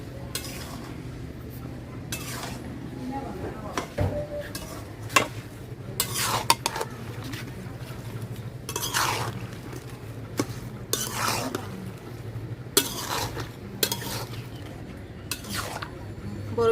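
Jujube berries for pickle are stirred in a pan, with a soft sizzle beneath repeated scraping and clinking of a spoon against the pan at an uneven rhythm.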